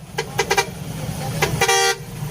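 Several short truck horn toots sound in quick bursts, then a longer blast, over the low rumble of road traffic, from a convoy of modified dump trucks arriving at a Thai temple.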